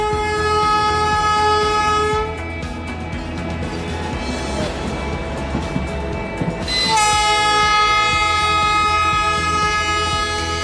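A train runs on a newly laid double rail line at Sahdei Buzurg station in Vaishali, Bihar. A loud horn blasts at the start and again near the end, with rumbling wheels and rail noise between and no talk.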